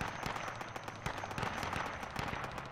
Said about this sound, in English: I'm taking lots of fire.